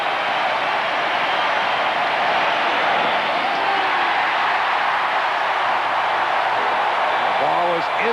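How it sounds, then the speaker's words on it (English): Sustained crowd roar fills a baseball stadium during Game 7 of the 1991 World Series between the Braves and Twins, steady and loud, with a voice briefly speaking over it. "The Atlanta Rooters want a hit."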